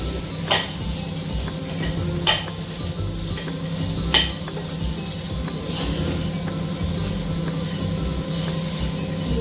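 Potatoes fry in a pan, a constant hissing sizzle broken by a few sharp spatula taps against the metal, spaced a couple of seconds apart, with no talking.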